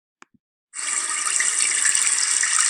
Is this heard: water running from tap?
yes